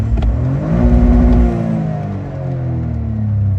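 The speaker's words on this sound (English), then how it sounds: "I'm just gonna give a quick rev inside" A Toyota GR Corolla fitted with an SXTH Element intake, midpipe and exhaust revs once indoors, the engine rising in a loud, throaty sweep and then falling back to a steady idle hum.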